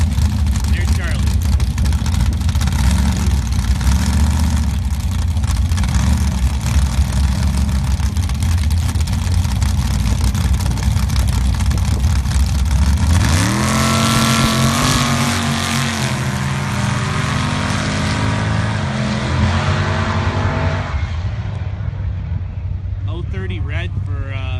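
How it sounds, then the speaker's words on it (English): A Mopar Jeep at a sand drag race roars loudly, then revs up sharply with rising engine pitch as it launches and pulls away down the track, while an announcer talks over the engine noise. "Next pair, Charlie Johnson in the Mopar Jeep"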